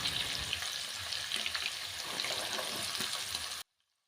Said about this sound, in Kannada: ಈರುಳ್ಳಿ ಗೋಲ್ಡನ್ ಬ್ರೌನ್ ಬರೋವರೆಗೂ ಫ್ರೈ ಮಾಡ್ಕೋಬೇಕು